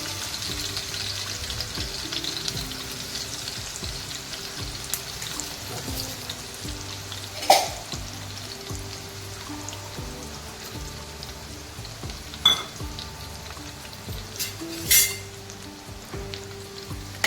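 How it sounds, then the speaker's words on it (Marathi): Garlic crackles and sizzles steadily in hot oil, with a few sharp clinks of a utensil against the pot. "आता आपण फोडणी देणार आहोत टोपात तेल टाकलेलं आहे आता आपण त्यामध्ये लसूण टाकणार आहोत"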